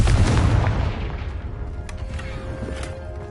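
A Confringo blasting spell goes off in the Hogwarts Legacy video game, a loud booming explosion at the start that rumbles and decays into a lingering low roar, with faint game ambience behind it.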